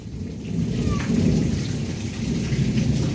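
Heavy rain pours down steadily with a low rolling rumble of thunder beneath it, a dense continuous wash of sound without any voices.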